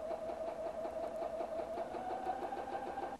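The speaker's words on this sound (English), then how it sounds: "Your Platinum 770 will sew in reverse until you touch the button again." A Husqvarna Viking Platinum 770 sewing machine runs steadily in reverse, a close, continuous mechanical whir with an even rapid stitching rhythm and a faint tonal hum, heard alone without talk.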